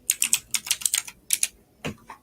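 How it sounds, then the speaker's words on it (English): Loud computer keyboard typing, rapid clustered keystrokes in quick bursts with brief pauses, close and dry, with no talking over it. "There's that super loud keyboard again."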